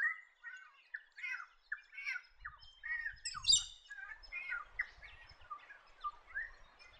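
Turquoise parrot calling in open forest or grassy woodland, a string of short chirping squawks repeating steadily over seven seconds, moderately close and clear with faint low rumble beneath.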